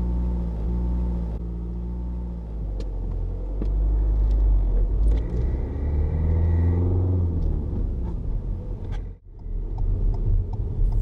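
A manual car's engine revs to roughly 1,500 rpm on the rev counter before pulling away on a flat road, a steady close low rumble with a brief dip near the end.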